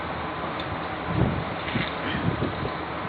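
Steady wind buffeting a microphone at the back of a boatbuilding site, a continuous low rumbling roar with gusty swells and no voices.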